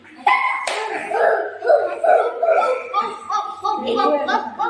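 A child imitates a dog barking during an indoor party game, giving a string of short, voiced barks and yips in quick uneven bursts, close and fairly loud, with light laughter mixed in.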